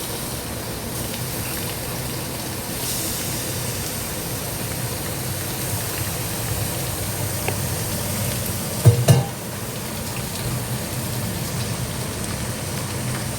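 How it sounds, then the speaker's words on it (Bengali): Potato, onion and meat frying in a pan, a steady dense sizzle running throughout at close range with one brief utensil knock, no talking. "ভাজা হচ্ছে আলুটা পেঁয়াজের সাথে।"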